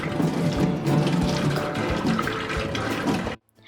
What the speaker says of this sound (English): And then also rinse off the scallion.